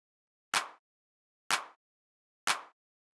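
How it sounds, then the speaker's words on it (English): Punchy clap drum sample with saturation, deep house style: three crisp, identical claps spaced evenly about a second apart, each with a short bright tail, alone and dry. "the next sound that we have here is this clap"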